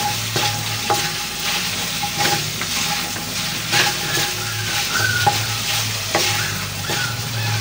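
Pork fries in a pan for pochero, a steady close sizzle with occasional stirring scrapes and clicks, with no one talking.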